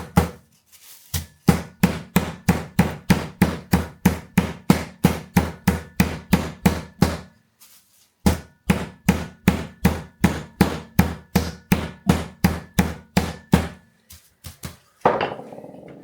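A chicken breast is pounded thin with the thick end of a kitchen tool in a long run of steady, rhythmic thuds, followed by a short pause and a second run of the same evenly spaced blows; no one speaks.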